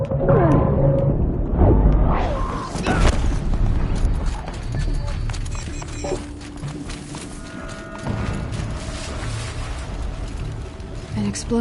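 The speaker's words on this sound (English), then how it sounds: "An explosion." An explosion in the video game Horizon Zero Dawn, a sharp booming blast near the start that rolls off into a rumbling tail under in-game voices and ambient effects.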